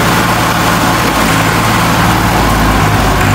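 A tractor engine runs steadily while the vehicle is stuck in floodwater, a loud continuous low rumble with a throbbing idle, close by, with no talk over it.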